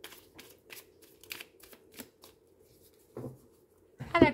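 Tarot cards are cut and shuffled close up in a quiet room, a run of soft riffling bursts at an even rhythm, ending in a louder flurry of card slaps.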